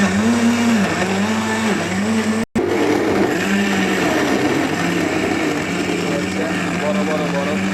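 A Silver Crest blender runs at full power with a loud, steady whirring roar that cuts out for an instant near the middle, then resumes. A voice murmurs faintly underneath.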